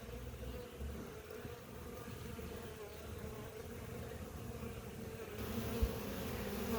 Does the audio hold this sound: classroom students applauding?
no